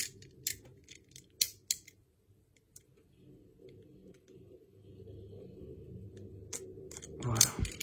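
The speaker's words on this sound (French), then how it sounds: "je vais prendre le petit cutter et on va l'ouvrir ensemble" A small utility knife slicing open the packaging of a 4K steelbook, with sharp snipping clicks near the start, then quieter scraping and plastic rustle close by.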